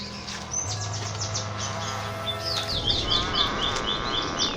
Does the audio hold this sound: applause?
no